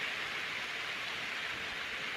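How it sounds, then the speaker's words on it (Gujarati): Steady rain falls as the first shower of the monsoon arrives after a long dry spell, a continuous even hiss with no breaks and no voices. "અત્યારે વરસાદની શરૂઆત આગાહી પ્રમાણે થઈ ગઈ છે"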